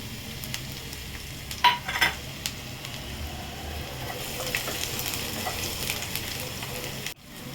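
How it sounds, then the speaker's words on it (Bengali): Chopped garlic sizzles in a hot wok, a few sharp scrapes of stirring early on, then a steady hiss that swells slightly before cutting off abruptly near the end. "এবার কড়ার মধ্যে একে একে প্রথমে দিলাম রসুন কুচি, এটাকে একটু সামান্য নেড়ে নেব"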